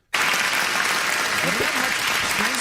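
Dense, hissing applause with a crackling, sizzling-bacon texture bursts in abruptly and stays loud and steady throughout, played as a sound effect on a sports talk radio show.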